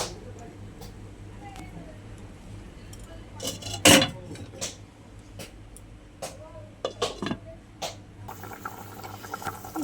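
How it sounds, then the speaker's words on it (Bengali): A lid goes onto a pot of simmering potatoes for tilapia fish curry with one sharp, close clank midway, set against a low steady background hum and faint kitchen clatter. "এবার ঢাকা দিয়ে দিই।"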